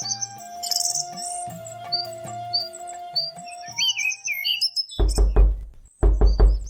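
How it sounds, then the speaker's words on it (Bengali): Birds chirp and tweet in bright overlapping calls throughout, with a few loud knocks near the end. "বাহিরে পাখির কিচিরমিচির ডাক শোনা যাচ্ছে।"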